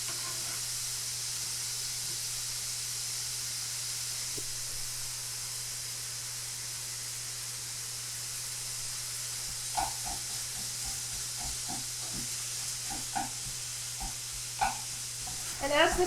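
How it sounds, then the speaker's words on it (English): Sausage with onion browning in a pan for stuffed zucchini, a soft continuous sizzle with a low steady hum underneath; toward the end come scattered clicks and scrapes as the meat is stirred and broken up. "when the sausage is browning, I'm going to add the onion to it so it can cook a little"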